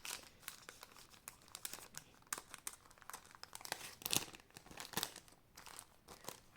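Sticky plastic packaging from an AliExpress haul crumpled and pressed by hand, close, crisp, irregular crinkling with sharp crackles and short pops.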